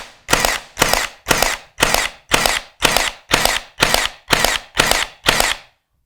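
A Milwaukee M18 FUEL brushless cordless 18-gauge brad nailer fires in multi-fire mode, snapping out about eleven loud, sharp mechanical shots in a fast, even rhythm before falling silent.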